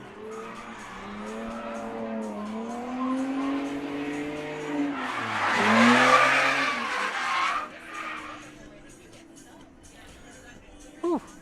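A car drifts around a cone course at Sebring during a drift event, tires squealing in long sweeping bursts that swell loud mid-run, with engine noise and people talking over it.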